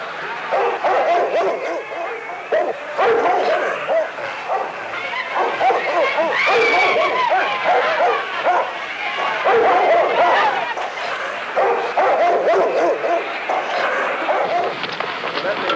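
Police dogs bark and yip repeatedly amid a noisy crowd of marchers in Birmingham, with voices and commotion running continuously underneath.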